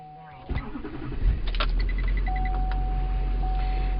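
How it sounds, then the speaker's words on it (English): A vehicle starter motor cranks the engine briefly until it catches, then the engine settles into a steady idle hum, close and fairly loud, with a faint tone from test equipment running alongside. "So now we go ahead and we crank."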